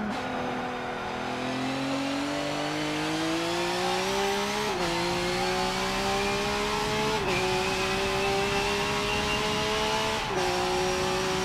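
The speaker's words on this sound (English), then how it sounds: "I really like the sound of this car." Race car engine from the Forza 7 video game, played with a G920 wheel, held at a loud steady drone that climbs gradually in pitch, with brief dips and quick shifts about every two to three seconds, continuous throughout with no talking.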